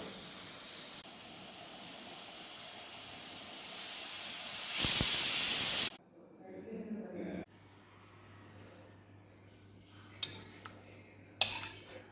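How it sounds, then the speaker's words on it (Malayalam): Beef cooking in a pressure cooker as it releases steam: a loud, sustained hissing jet that builds and then cuts off abruptly, followed by quieter kitchen clatter and a couple of sharp clinks. "ഒന്നോ രണ്ടോ ചീറ്റിക്കൽ കഴിഞ്ഞാൽ ഞാനത് തുറന്നോക്കും"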